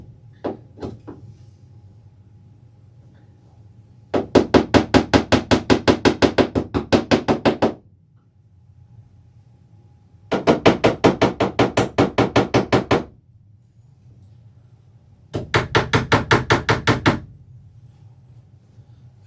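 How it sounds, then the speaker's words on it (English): Repeated hammering on model railroad track spikes while laying track for a paper mill layout: three bursts of rapid, even, sharp taps, each lasting a few seconds and separated by short pauses, close and loud with no talk. "I should really hammer these down"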